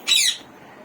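Pet parrots (conures, ringnecks and cockatiels) give a single sharp, loud squawk, close and brief, then quiet.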